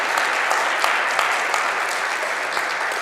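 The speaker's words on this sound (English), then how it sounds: "let's just give them a round of applause." Congregation in a Sunday church service gives a round of applause, a sustained, fairly close crowd clapping with steady density and a few sharper individual claps standing out.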